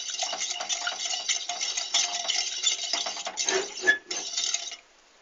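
Spoon or whisk clinking steadily against a pot while milk and rice flour are stirred into keşkül pudding, a busy run of metallic scraping and taps that stops abruptly near the end.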